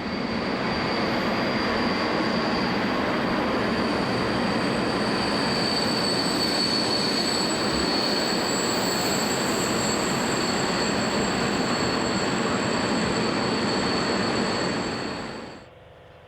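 Freight train hauled by class 189 electric locomotive 189030 rolling past, loud and continuous with a steady roar of wheels on rails and a sustained high squeal, fading sharply at the end, no talking.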